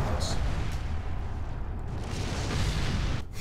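A frag grenade blast in Resident Evil 4 fills the moment with a loud, deep, rumbling roar of debris that stays heavy and sustained throughout.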